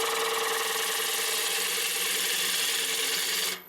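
A wood lathe spins a platter while a gouge cuts it, making a continuous whirring, scraping drone with a steady pitched hum. It stays loud and close, then drops away at the very end.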